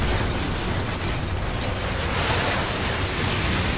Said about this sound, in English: Let me airstrike this guy.